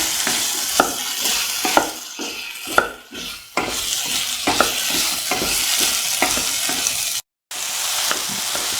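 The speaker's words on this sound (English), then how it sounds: "Stir the tomatoes and the potatoes and the rest of the mixture for around 6 to 8 minutes" Vegetable mixture of tomatoes, potatoes and green chillies stir-fried in a pan, a steady close sizzle broken by regular scraping strokes of a spatula, with one brief dropout.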